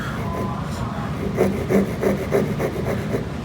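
Hand saw stroking through wood while cutting a joint, a tenon-style fitting in fine joinery, with a steady series of rasping back-and-forth strokes, close and moderately loud, in a quiet workshop.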